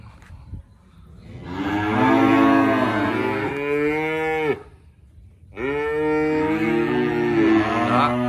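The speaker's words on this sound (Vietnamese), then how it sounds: "Đây hai con bò đây." Cattle at a cattle farm let out two long, loud, close moos separated by a short pause, each a deep drawn-out bellow.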